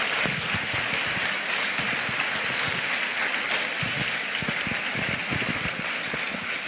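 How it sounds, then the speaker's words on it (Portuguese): A church congregation applauds during a sermon, giving a dense, even wash of clapping that continues steadily at a moderate volume throughout. "Pode aplaudir o Senhor"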